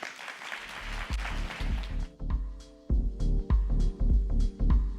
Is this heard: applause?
yes